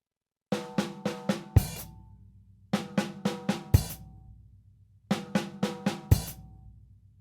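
Basic drum kit groove on snare and toms, played in three short bursts: four quick even hits then a heavier accented stroke, repeated with pauses between, close and clear with no talking.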